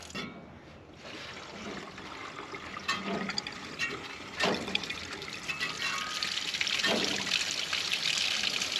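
Water trickles and splashes as it drains from the engine block of an old WW2 Ford Jeep left on a farm, a steady close-up flow with a few sharper drips and gurgles building slightly louder toward the end.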